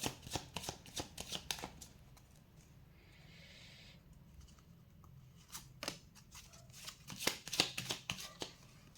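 Tarot cards shuffled by hand in repeated crisp riffling bursts, close and fairly quiet, pausing briefly midway before a louder flurry of shuffles near the end.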